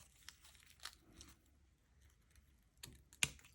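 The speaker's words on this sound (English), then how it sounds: "let's just snip our fiber." Scissors snip a fiber thread with one sharp, close cut near the end, preceded by soft rustles and small clicks of handling in a quiet room.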